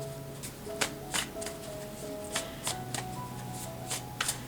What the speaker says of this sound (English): I do this as I'm shuffling